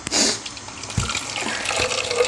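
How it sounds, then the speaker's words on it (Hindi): Water runs into a small spice grinder jar to rinse it out in a kitchen, a close splashing trickle that continues for a couple of seconds with a few sharp clinks and no talk. "हल्का सा पानी डाल के तो मिक्स करके तो इसको भी डाल लेते हैं अंदर ही"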